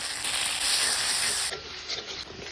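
Spice paste of ginger, green and dried chilli, cumin, coriander, turmeric and salt fries with a splash of water in a pan, giving a loud, steady hiss that drops to a softer sizzle halfway through.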